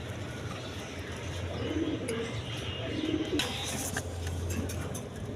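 Lotan pigeons give low, soft coos in a few short phrases over a steady background hiss, fairly faint and without speech.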